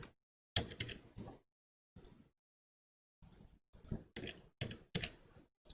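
Computer keyboard keys tapped in short bursts of quick clicks separated by pauses, close and crisp, with a fake address being entered.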